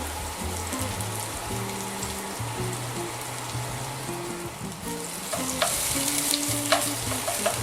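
Tomato paste sizzles and fries in a pan while being stirred, a steady close crackle with scraping stir sounds and brighter spitting bursts toward the end, cooked for a monkfish armoricaine dish.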